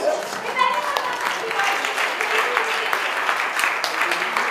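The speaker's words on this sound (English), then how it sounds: "And a round of applause for all of our amazing panelists." Audience applause for a group of panelists after a screening event in Chicago, a dense, steady wash of clapping filling the whole stretch at moderate loudness, with some voices mixed in.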